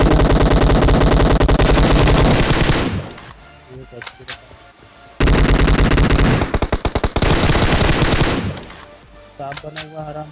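Bursts of automatic gunfire in PUBG Mobile, two loud sustained volleys of rapid shots each lasting a few seconds, separated by quieter stretches with scattered single shots.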